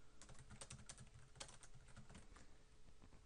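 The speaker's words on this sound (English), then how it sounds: "Type your message." Quiet, rapid tapping on a computer keyboard, an irregular run of light keystrokes close by with no voices.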